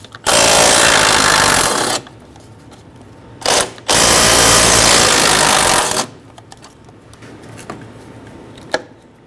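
Power tool driving out 10mm radiator mount bolts on a 2011-2016 Ford F-350 with a 6.2L V8, two loud close bursts of rattling impact whir separated by a short blip, then quiet with faint clicks.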